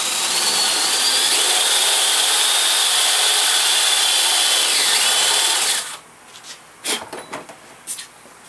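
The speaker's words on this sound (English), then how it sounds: "I'm going to take my paddle bit, and what I'm going to do is I'm going to rim this wood out of here" Paddle bit drilling out wood for a fish taxidermy mount, a continuous high whining power drill grinding for several seconds, then stopping, followed by a few short knocks and scrapes.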